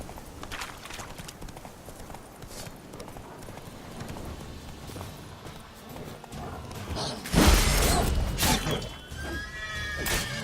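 Hooves of Roach, the horse in The Witcher video game, clip-clop at a gallop under game ambience and faint talk, with a louder burst and a neigh toward the end.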